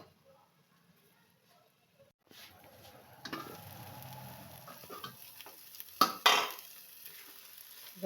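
Pea nimona masala sautéing in a pan with a little water: near-silence at first, then a steady sizzle with spatula scrapes and a sharper clatter partway through.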